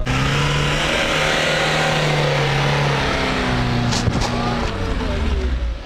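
A 2018 UAZ Patriot 4x4 with manual gearbox and electric locker revs steadily in sand, its engine droning loud and continuous throughout as the wheel digs without moving, with a brief sharper burst near the end.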